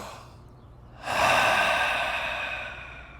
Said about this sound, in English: I'll give you a demonstration, first focusing on the pursed lip inhale.